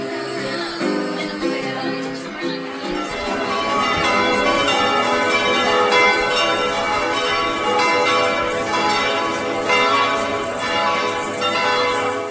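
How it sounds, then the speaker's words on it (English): Exuberant church bells peal in Frankfurt, Germany, many bells ringing together loudly and continuously in overlapping, resonant strokes that build and sustain throughout. "I found myself in the midst of even more exuberant church bells"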